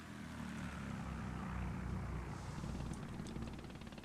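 Attacking aircraft in a strategy video game drone steadily with a low propeller-engine rumble, continuous and fairly faint with no talking over it.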